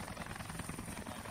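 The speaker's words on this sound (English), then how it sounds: "I'm gonna jump out of the helicopter." Steady whirring rotor drone of a helicopter in ArmA 3, constant and fairly loud throughout with no pauses.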